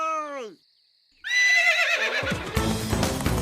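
A horse gives a loud, close whinny with a falling pitch, followed after a short silence by another shrill neigh that rises over rapid hoofbeats as the animal gallops in a chase.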